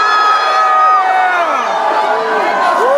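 A concert crowd at the El Rey Theatre keeps up a loud, steady cheer, with scattered whoops and shrieks cutting through the roar.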